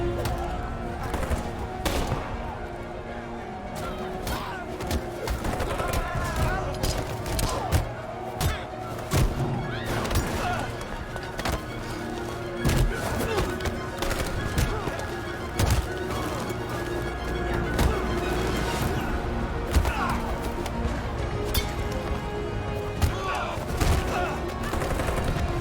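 Gunfire in the video game Detroit: Become Human, with repeated sharp shots and bursts crackling throughout over a steady loud background score.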